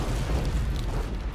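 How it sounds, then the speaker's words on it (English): Pillar of fire power ability in the fantasy action game Dungeon Siege 3, heard as a brief, loud, low rumbling roar of flame, steady and unbroken with no talk. "Unlock the power ability. Pillar of fire."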